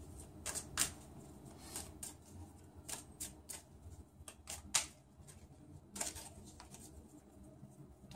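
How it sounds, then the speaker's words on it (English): Tarot cards being shuffled by hand for a full moon reading: soft riffling bursts and flicks at an irregular rhythm, close and quiet, with no talking. "Pre-shuffled the cards"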